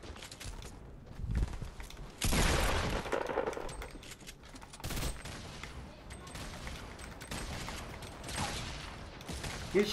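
Gunfire in the video game Fortnite: sharp bursts of shots, with one loud volley near the start and scattered quieter shots after it, mixed with game mechanism sounds.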